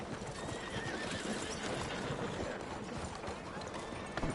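A horse gallops in Red Dead Redemption 2, hooves clip-clopping in a fast, continuous rhythm throughout, with whinny-like sounds and game ambience mixed in.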